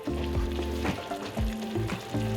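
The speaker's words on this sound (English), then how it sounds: "Stir that around." Chicken taco filling with beans sizzles steadily in a hot pan while a utensil stirs through it, scraping in several distinct sweeps over loud, continuous frying.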